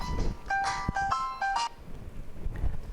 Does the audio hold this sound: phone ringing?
yes